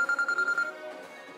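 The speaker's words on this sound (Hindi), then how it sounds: "अभी नाम लिया और फोन भी आ गया" Telephone ringing indoors in rapid regular electronic pulses for about half a second, then a fading tail, with no talk over it.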